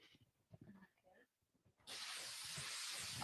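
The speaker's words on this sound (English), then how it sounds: "They just say shake well, so I'm shaking it. And I'm gonna go there and spray it." Faint rustling and handling noises give way to a loud, sustained hissing spray from an aerosol can that keeps going without a break.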